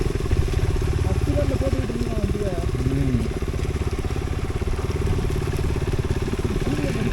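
A motorcycle engine drones steadily and loudly while riding a wet hill road during the monsoon, a continuous rumble with voices talking over it.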